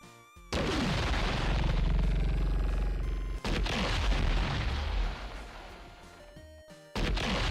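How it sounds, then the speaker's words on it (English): Explosion sound effects for a video game play back one after another, three loud booming blasts with crashing debris that fade out before the next begins, each cut off abruptly. "I'll just use the same explosion sounds that I used in my last"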